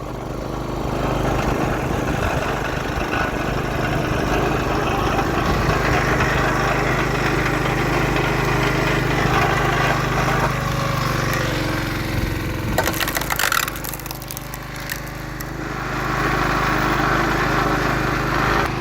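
A log splitter's small gasoline engine drones loudly and continuously, with a brief crackling, splintering stretch of wood splitting midway before the steady engine noise resumes.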